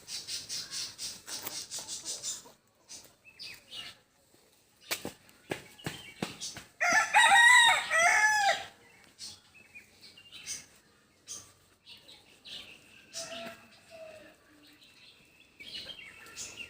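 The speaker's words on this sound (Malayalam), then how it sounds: "വീട്ടിലത്തെ കോഴികളാട്ടത്." Household chickens cluck and flap, with a loud rooster crow bursting out midway among scattered nearby clucks and rustling. There is no talking.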